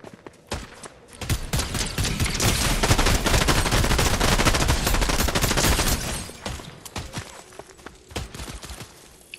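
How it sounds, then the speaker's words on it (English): Heavy gunfire in the Fortnite video game: dense, rapid bursts of shots that run almost without a break for several seconds, then thin out into scattered single cracks, loud and close, with no voices. "Just go ahead and start taking shots."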